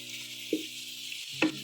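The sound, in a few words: boneless chicken frying in ginger-garlic paste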